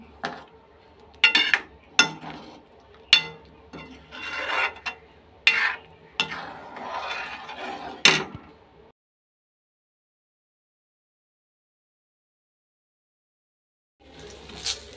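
A spoon scraping and stirring paneer masala in a pan, giving a run of sharp metallic clinks and rasping scrapes for several seconds, then silence, then a brief return of stirring at the end.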